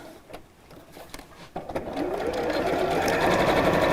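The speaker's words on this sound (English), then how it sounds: "So I'm going to sew down the sides and across the bottom of this one." A sewing machine stitches down the sides of a piece of fabric, starting with a few short clicks and then running as a steady, loud, continuous whirr.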